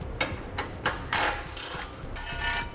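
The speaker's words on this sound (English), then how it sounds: "Now we want to use our 13mm socket. We're going to pull out the 2 bolts located here at the rear" A 13mm socket wrench ratchets out bolts from a spare tire cradle while a trailer hitch receiver is fitted to a 2016 vehicle, giving a few spaced clicks and then a couple of longer ratcheting runs, close and fairly quiet.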